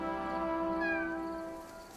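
A cat meows in Blue Protocol: Star Resonance, a single drawn-out meow heard faintly over steady, tonal game background music.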